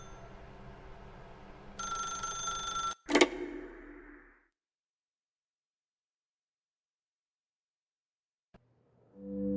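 A telephone rings in The Stanley Parable video game: a single short electronic ring burst, then a sharp clunk as it cuts off, followed by near silence and a faint click before another sound begins.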